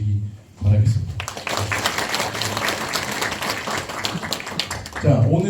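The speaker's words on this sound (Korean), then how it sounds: "큰 박수 한번 쳐주셔서 앞으로도 열심히 하라는 의미로 박수 한번 주시기 바라겠습니다" Audience at a community redevelopment briefing meeting gives a round of applause, dense clapping that starts after a brief voice and runs steadily, with a voice returning at the end.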